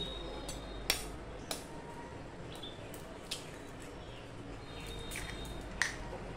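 Eggs are cracked one after another into a vegetable mixture, a few sharp, faint clicks and taps of shell against a bowl spaced over several seconds in a quiet kitchen.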